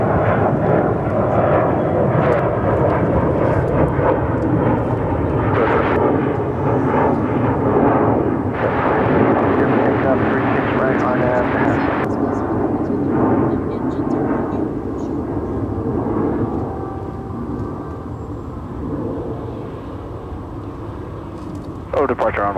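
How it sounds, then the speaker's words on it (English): A 35-year-old Boeing 757 airliner begins taxiing at Dallas-Fort Worth International Airport, a loud, steady broadband jet roar that holds for the whole stretch and eases slightly near the end, with voices talking over it. "757 starting her taxi here."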